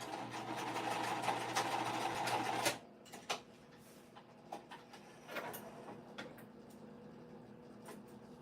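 A sewing machine stitching an upcycled winter crescent bag made from old jeans runs steadily for a few seconds and then stops, followed by faint handling clicks and rustles.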